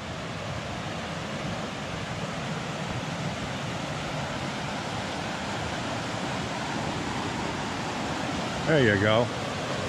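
The Dosewallips River flows beside a camping area as a steady, broad rush of water running throughout, with a brief spoken remark near the end.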